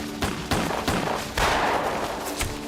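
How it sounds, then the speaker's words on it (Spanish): Sound-effect gunfire in a staged exchange of shots: a handful of sharp, loud reports at uneven intervals, each with a short rumbling tail, heard alone with no voices. "se intercambiaron disparos"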